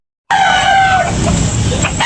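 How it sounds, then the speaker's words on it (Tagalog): A rooster at a cockfight venue lets out a single loud, close crow that starts abruptly and holds strongly to the end, with faint background noise underneath. "Gwapong manok"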